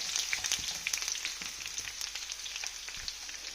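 Lemon and dates pickle mixture sizzling in a pan while being stirred over a low flame: close, crackling fry noise with quick pops and spoon movements, no voices.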